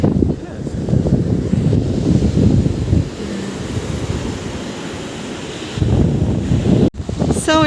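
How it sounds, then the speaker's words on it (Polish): Sea waves washing onto the beach at Valencia, Spain, heard as a steady broadband roar mixed with strong wind buffeting the microphone, with a louder surge near the end. "Zobaczcie, jakie fale, w ogóle jaka pogoda."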